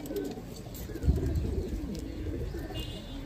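An Andhra pigeon coos in soft, repeated rolling notes close by, layered over a steady low background hum, with faint chirps from other birds; no talking.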